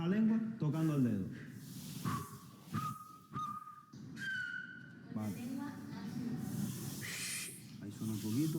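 A Silbo Gomero whistled language practised in a class, with several pure, steady whistled tones, some held and some gliding, between stretches of close talk from a speaker.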